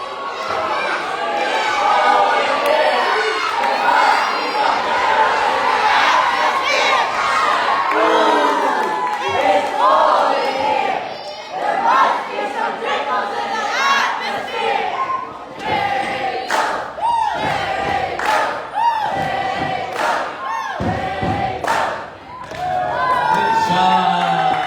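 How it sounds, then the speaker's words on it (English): Children at Vacation Bible School cheer and shout loudly as a crowd, with thumps and stomps breaking through the sustained roar of voices. "Let me hear everybody cheer, everybody stand up on the count of three. Do your cheers."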